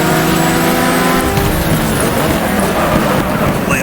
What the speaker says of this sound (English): You can really immerse yourself in the sounds for GTR2.